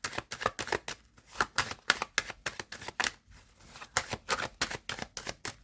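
Tarot cards are shuffled by hand close up, a rapid run of crisp riffling bursts and soft slaps in an uneven rhythm lasting several seconds, with no voice over them.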